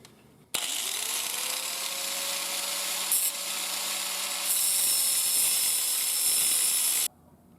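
Power tool trimming steel U-bolts on a Jeep YJ, a loud, steady grinding-cutting whine lasting about six and a half seconds with a slight pitch drop partway, starting and stopping abruptly.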